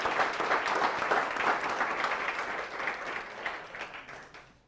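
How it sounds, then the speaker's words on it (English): Audience at an Impact Awards ceremony applauds the Diversity, Equity, and Inclusion Award finalists, a full, even wash of clapping that gradually thins and fades toward the end. "So please give a round of applause for our impactful Diversity, Equity, and Inclusion Award finalists."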